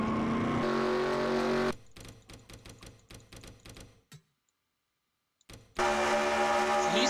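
Onboard race car engine in a superspeedway racing video game, a loud steady drone that breaks into rapid stuttering bursts, drops out into near silence, then surges back at full volume.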